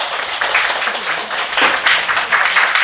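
An audience at a school orientation applauds in welcome of the principal, producing steady, dense clapping throughout at a close, even level.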